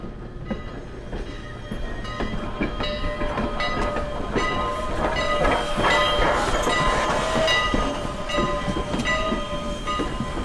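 A steam train on the Strasburg Railroad rumbles steadily with rhythmic clicking of wheels over rail joints, loud and close, building slightly as it pulls out.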